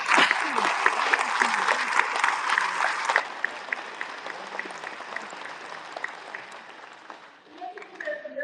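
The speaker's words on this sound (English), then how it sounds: "Give a round of applause." A graduation audience bursts into applause, heavy at first then thinning to scattered claps, before a speaker begins talking at the end.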